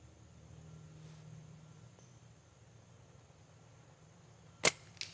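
A slingshot on a Forkshooter frame is fired outdoors with one sharp, loud snap, followed moments later by a fainter secondary crack.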